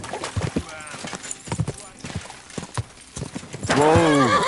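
Hooves clip-clop in quick, uneven beats in Kingdom Come: Deliverance II, then a horse gives a loud, close whinny at the end; a voice shouts over the hoofbeats.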